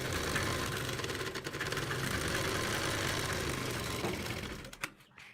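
A sewing machine runs steadily while stitching a salwar bottom strip, its fast even whirr holding close and loud for about five seconds and then cutting off abruptly near the end.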